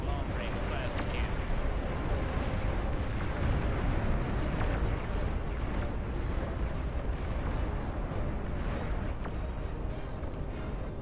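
Long-range plasma cannon artillery in the real-time strategy game Beyond All Reason: a continuous, thick rumble of distant booming impacts and bursts, steady throughout, with a voice talking over it.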